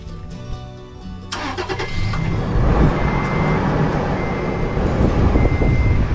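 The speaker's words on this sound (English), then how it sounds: "Time to start up the truck to see if it works." A 2012 Toyota Tacoma pickup starts up just after an oil change: a few dashboard chime tones, then the engine cranks and catches into a loud, steady, close-up idle.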